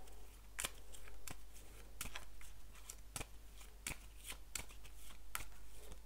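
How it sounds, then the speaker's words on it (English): Action cards for a board game being riffle-shuffled, about eight crisp, evenly spaced bursts of card snaps, close and quiet with a low hum underneath and no talking. "So we shuffle our action cards here and keep going."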